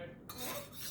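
A spoon clinks and scrapes against a bowl while pineapple jelly crystals are stirred and melted into liquid, a brief close clatter of cutlery on dish.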